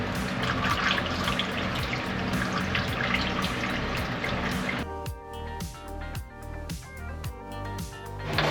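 The cooling system of a cheap truck, just fitted with a new hose, gurgles softly: a steady watery rush at first, then a run of distinct bubbling pops and drips.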